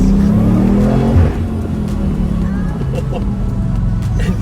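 A 2020 BMW M8 with a turbocharged engine roars at high RPM, a loud sustained drone with a rising whine, while a voice talks over it.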